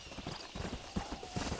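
Horse hooves clip-clop in steady rhythm across a short stretch in Red Dead Redemption on PlayStation 3, moderately close, with a faint game ambience beneath and no talking.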